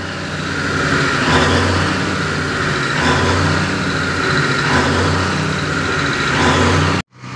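A brand new generator set engine runs steadily at a constant idle, loud and close, with a low mechanical drone and no talk, cutting off abruptly just before the end.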